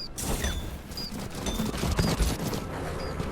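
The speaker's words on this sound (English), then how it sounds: "Oh yeah, laser cannon." A laser cannon firing in Far Far West, rapid repeated blasts and booming impacts in a dense barrage with short high zapping tones scattered through, loud and continuous.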